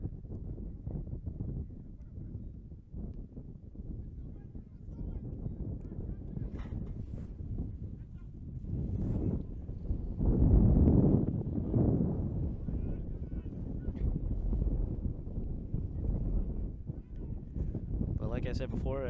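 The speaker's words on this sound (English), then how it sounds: "It's just that windy out right now." Gusty wind buffets the microphone in low rumbling bursts, strongest midway, while someone speaks throughout.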